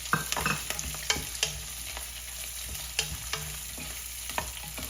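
Green chilies and roasted peanuts roast in a pan over a low flame for sweet potato khichdi, giving a steady soft sizzle broken by a few sharp scrapes and knocks of a stirring spoon.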